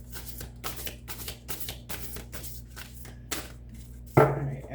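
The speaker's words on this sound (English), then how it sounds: "how am I going to shuffle these big cards?" A run of papery riffling bursts as large cards are shuffled repeatedly, close by, ending in a louder clattering knock over a faint background hum.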